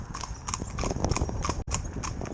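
Horse hooves clip-clopping in a steady, close rhythm on a road, from a competition pair of driven horses in training, with a brief break near the end.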